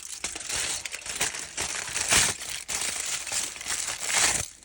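Aluminium foil being torn by hand into small pieces over a bowl, a steady run of crisp crinkling and ripping with louder tearing bursts, close and alone with no talk.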